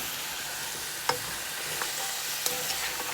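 Turkey wings get stirred in brown sugar in a pot for Caribbean-style brown stewed turkey, giving a soft continuous sizzle with a few light scraping knocks of the spoon against the pot.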